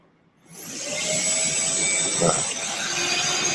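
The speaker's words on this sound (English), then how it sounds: "That's the vacuum cleaner from my car detailer." A car-detailing vacuum cleaner starts up and runs with a steady, loud whine and rushing hiss.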